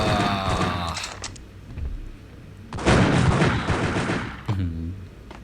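Gunfire in the mobile game Max Payne: loud bursts of rapid shots and booms that come in clusters, broken by short pauses and a few mechanical clicks.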